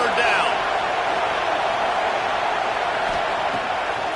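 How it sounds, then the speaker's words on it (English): A football stadium crowd roars steadily for the defense on third down, a dense continuous wash of distant cheering with a broadcast voice talking over it. "Decibels rising as the crowd gets behind this defense on 3rd down."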